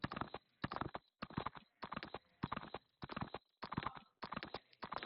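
Horse hooves clip-clop in quick, regular bursts in BGMI, a mobile battle-royale game, with short pauses between trotting runs, fairly faint and close.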